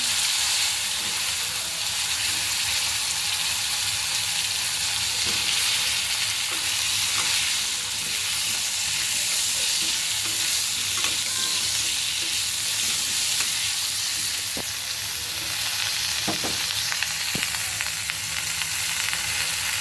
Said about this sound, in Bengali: ফুলকপি ভাজা হতে থাকে